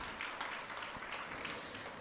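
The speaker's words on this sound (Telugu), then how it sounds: "ఒకసారి చప్పట్లు కొడదాం ఆ శతాధిపతికి." A church congregation claps during a sermon. The applause is soft and steady, heard from a distance, and continues for a couple of seconds without any voices.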